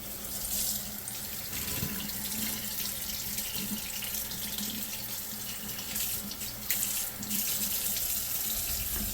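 Kitchen tap water runs into a sink as an item is rinsed, a steady, close splashing stream with shifting texture as the object moves under the flow, no talk.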